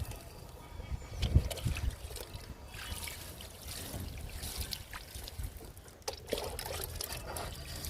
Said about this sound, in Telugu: మనం గుబురుగా ఉన్న మొక్కలకి వాటర్ ఇచ్చేస్తే సరిపోతుంది